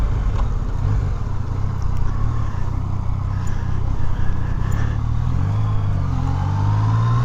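A motorcycle engine runs as the throttle is twisted, a loud continuous rumbling drone that swells and climbs in pitch toward the end, close by with no talking.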